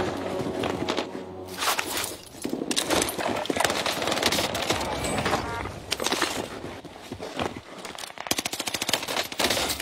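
Rapid machine gun bursts in a shooter video game, loud and near, with repeated volleys and short pauses between them over game ambience and footsteps.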